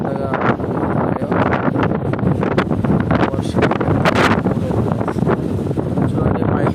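Strong wind roars through neem trees outdoors, a loud continuous gusting rush with heavy microphone buffeting and rustling throughout.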